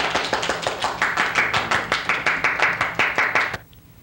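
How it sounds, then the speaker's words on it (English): Children in a music class clap together as a round of applause for themselves, a roughly steady run of about twenty sharp, close claps that breaks off suddenly, leaving near silence. "Let's give ourselves a round of applause."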